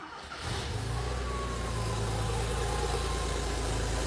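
A car engine cranks and fires up during a test drive, catching almost at once and then settling into a smooth, steady run close to the microphone with no talking.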